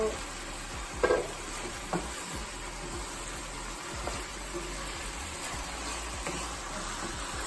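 Minced keema frying in a pan over medium heat for lasagna, a faint, even sizzle with a couple of soft stirring knocks early on, heard alone.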